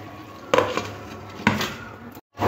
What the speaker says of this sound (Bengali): আবার ঢাকাটা উঠিয়ে নেব।